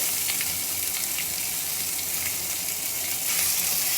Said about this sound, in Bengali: এবারে আমরা চুনো মাছটা দিয়ে দেব।